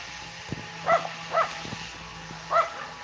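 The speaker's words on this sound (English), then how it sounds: "Always barking." Neighbourhood dogs bark in the evening, three sharp single barks spaced about half a second to a second apart, heard at moderate distance over a steady low hum with faint clicks.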